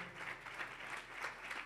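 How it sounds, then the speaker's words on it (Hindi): Congregation applause at a live Sunday Urdu church sermon, a steady even wash of clapping from many hands filling the whole short stretch at moderate level. "खुदा के बंदा के लिए, खुदा के कलाम के लिए जोरदार तालियां"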